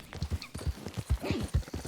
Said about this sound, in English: Got the horse sounds all realistic and everything